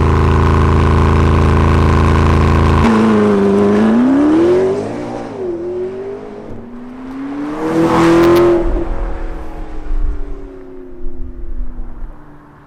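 A 2016 McLaren 650S Spider idles loudly, then accelerates hard, its engine note climbing through gears with a rising whine and a brief roaring burst before easing off.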